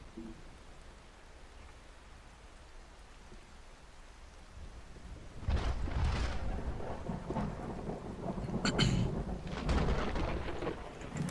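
Thunder rumbles and rain pours in the OUTBRK storm-chasing game, quiet rainfall at first, then loud rolling thunder swelling in from around the midpoint with a couple of crackling peaks over steady rain.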